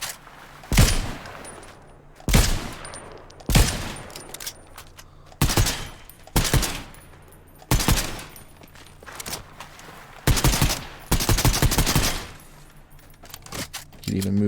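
A DMR rifle fires in a shooter video game, with repeated loud bursts of close gunfire in uneven clusters over a low background, a voice talking between shots.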